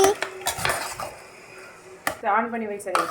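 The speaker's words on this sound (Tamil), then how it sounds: "இப்போ நல்லா இதை மிக்ஸ் பண்ணிட்டா பாத் ரெடி" Sambar is stirred in a metal pot, with close, bright clanks and scrapes of a ladle against the vessel over light sizzling, and a voice briefly speaking toward the end.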